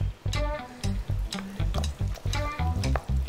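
Egg is stirred by hand into a shrimp and ground pork filling for pancit molo, a close wet slapping and squelching in quick rhythmic strokes that pause briefly between bursts, with no one speaking.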